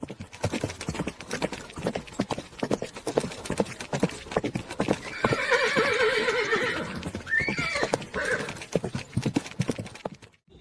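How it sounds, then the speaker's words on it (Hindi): A horse whinnies loudly over a steady, rhythmic clip-clop of hooves, the neigh rising out of the hoofbeats midway through. "तुरंत ही घोड़े पर सवार होकर"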